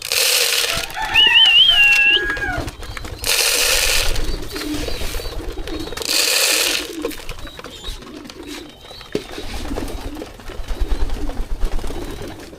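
Racing pigeons in a loft coo softly and repeatedly. A few brighter whistling calls and rustling wing and crinkling noises sound close by, over a low rumbling background.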